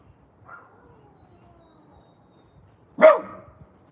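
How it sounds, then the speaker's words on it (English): A dog gives a faint distant yip, then a single loud, close bark near the end, against an otherwise quiet background. "What are you barking at?"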